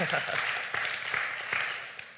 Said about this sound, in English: Big round of applause for Yash